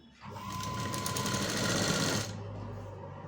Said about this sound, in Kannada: ಅದೇ ರೀತಿ ಹೊಲಿಗೆ ಹಾಕ್ತಾ ಹೋಗಬೇಕು